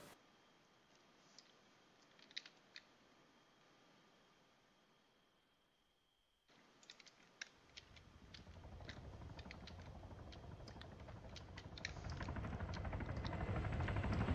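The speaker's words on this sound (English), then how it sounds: "I can hear a helicopter" A video game helicopter sets a faint, steady rotor drone under scattered clicks and taps, which build into a louder, denser wash of noise in the second half.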